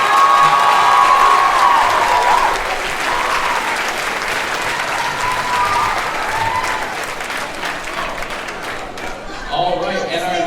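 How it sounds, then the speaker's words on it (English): A crowd at a high school spring band concert breaks into loud, sustained applause with scattered cheers and whoops, easing slightly over time before a voice begins speaking near the end. "So we can give Ella a huge round of applause."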